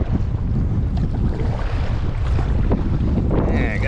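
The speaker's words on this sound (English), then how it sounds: "Yeah, I got a headwind." A strong headwind roars across the microphone while boating on the Kings River, steady loud buffeting with water and hull noise underneath throughout.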